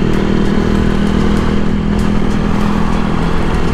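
Motorcycle engine droning steadily and loudly up close while riding through traffic with clutch work, a continuous mid-pitched hum with no talk over it.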